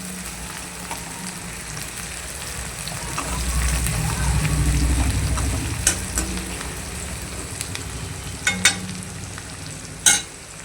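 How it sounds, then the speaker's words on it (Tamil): Green chillies and crushed garlic sizzle in a hot pan while being stirred, giving a soft continuous frying hiss with scraping strokes and a few sharp clinks of the spoon. "இப்போ இதை நல்லா இப்படி கிளறி விட்டுக்கலாம்."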